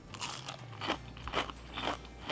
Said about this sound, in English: probably hear me crunching